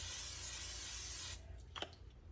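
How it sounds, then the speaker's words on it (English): A steady hiss of an olive oil cooking spray runs for over a second, then cuts off, followed by quiet handling noises. "I'm just using olive oil spray."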